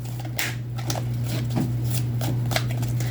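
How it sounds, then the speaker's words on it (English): A deck of cards is shuffled by hand in a run of quick riffling and flicking bursts over a steady low hum, with no voice heard. "I don't know why I can't get a good shuffle today"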